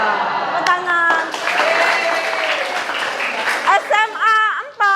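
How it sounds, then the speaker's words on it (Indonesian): Classroom audience of high school students at SMAN 4 applauding, a dense burst of clapping mixed with voices and cheering at close range throughout. "Tepuk tangan."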